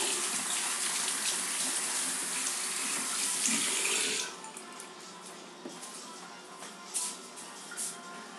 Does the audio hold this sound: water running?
yes